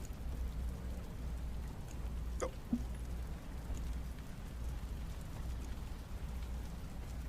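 Heavy rain pours in a steady, dense hiss with drops drumming on surfaces and a faint distant rumble beneath. One brief spoken word breaks in near the start.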